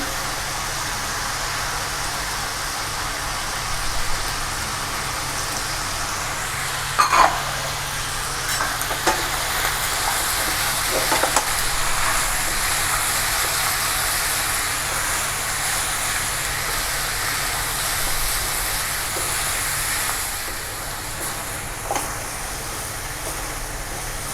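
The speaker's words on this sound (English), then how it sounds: "The onions will fry along with the mutton itself and form the curry." Sliced onions frying with mutton in a pan for a Coorg-style curry give a continuous close sizzle, joined by occasional stirring scrapes and light knocks, with no voices.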